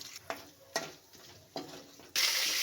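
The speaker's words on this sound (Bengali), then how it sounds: "এখন তেল গরম হয়ে গেছে, তেলও দিয়েছি, তেজপাতা আর শুকনো মরিচ" Bay leaves and dried red chillies hit hot oil in a kadai with a few scraping stirs, then a sudden loud, close sizzle that carries on steadily.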